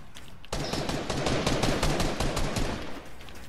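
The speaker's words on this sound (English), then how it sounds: "Oh, he's shooting at me." Rapid bursts of video game gunfire start abruptly and continue in dense, loud volleys with no talking over them.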